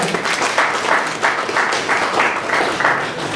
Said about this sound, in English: A round of applause for Ife.